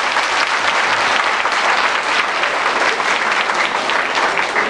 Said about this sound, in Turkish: Büyük bir alkış.